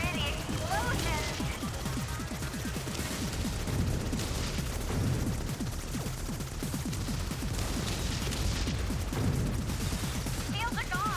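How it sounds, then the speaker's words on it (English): Dense, continuous bursts of gunfire and booming explosions from the space shooter game Subverse, with rapid popping shots layered over heavy rumbling blasts throughout. "Pretty explosions!"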